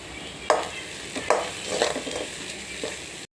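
Squid roe frying in a pan with masala powder gives a soft steady sizzle, while a spoon stirs it in a few distinct scraping strokes, close and clear with no talking.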